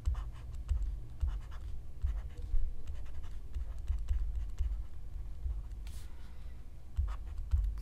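Handwriting on paper while working an engineering components problem, steady soft scratching strokes of pen or pencil with brief taps, close and fairly quiet, heard alone.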